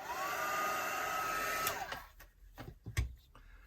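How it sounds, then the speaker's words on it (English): A heat gun blows on a fresh coat of paint on a specimen-tag craft project, a steady close whooshing hum that cuts off partway through, followed by a few faint clicks and knocks. "So again, I'll just give that a blast with the heat gun."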